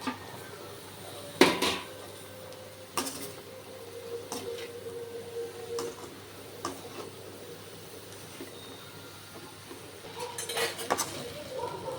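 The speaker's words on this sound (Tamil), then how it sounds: "இந்த டைமில் நான் பீர்க்கங்காவை வந்து இதில் ஆட் பண்ணிடுறேன்" Ridge gourd is tipped into an egg masala in a pan and mixed, giving scattered clinks and scrapes of a spoon against metal with quiet gaps between them and no talk.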